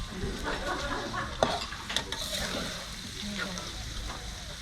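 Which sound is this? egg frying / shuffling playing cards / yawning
egg frying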